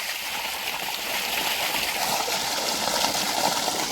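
Water gushes in a steady, loud, broadband rush from an opened tubewell into a farm field, continuous and close with no breaks.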